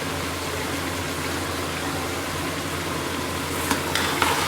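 Ground tomatoes, about four blended into a cup of paste, sautéing in a hot pan for achar gosht: a steady, close sizzling hiss with a few clicks of stirring near the end, no voices.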